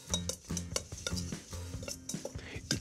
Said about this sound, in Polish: Znowu wymieszam.